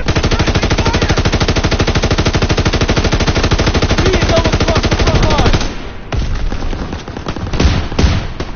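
Dense, continuous automatic gunfire from Call of Duty: WWII rattles loudly for over five seconds, then breaks into scattered bursts and single shots amid battle noise.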